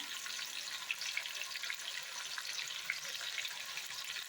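Broad beans fry in hot oil over medium heat, giving a steady, soft, hissing sizzle with faint bubbling crackles, quiet and continuous with no talk.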